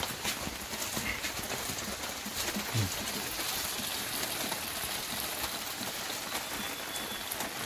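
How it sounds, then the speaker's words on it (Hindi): Steady rain pours onto surfaces in a village, a dense, continuous patter of close drops with scattered sharper taps throughout. "तो गाइस फिर से बारिश शुरू हो गया है"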